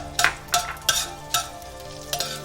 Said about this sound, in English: I'm going to use the remaining oil to fry the peppercorn and the chili.